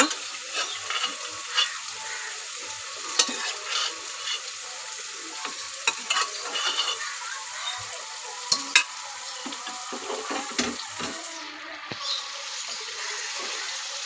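Boiled meat stir-fries with spice masala in a pan, a continuous close sizzle with frequent spatula scrapes and knocks spread irregularly throughout, fairly loud and with no talking.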